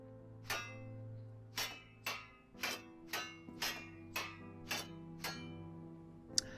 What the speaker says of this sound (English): And then we use the hammer